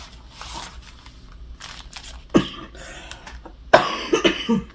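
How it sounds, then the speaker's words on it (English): Two loud, close coughs come from a woman with a lingering cough while she unboxes items indoors. Between the coughs there is quiet crinkling and handling noise. "I'm trying not to cough."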